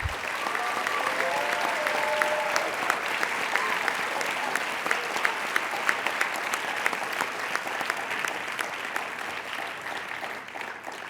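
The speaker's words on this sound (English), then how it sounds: "Please give a round of applause for the Queensborough faculty and staff who have helped you to achieve" Audience at a college Dean's List ceremony applauding faculty and staff, a sustained wash of clapping with sharper individual claps standing out, steady throughout.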